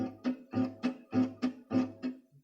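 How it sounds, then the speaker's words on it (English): Acoustic guitar strings struck with only a pick in a rhythmic accompaniment pattern, about eight short percussive strums in steady succession, close and dry. "If I just use the pick, it sounds like this."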